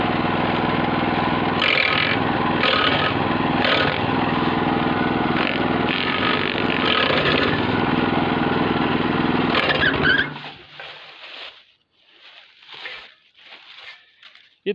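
A gasoline-type branch shredder runs loud and steady for about ten seconds, chipping a branch at the largest diameter the machine accepts. The engine then cuts out and a few fainter, uneven noises follow.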